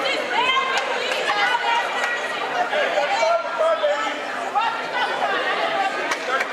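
Vocal student section at a college men's basketball game, Bellevue University versus Viterbo, a dense crowd of chatter and shouting from the stands, steady and close throughout with occasional laughter rising out of the din.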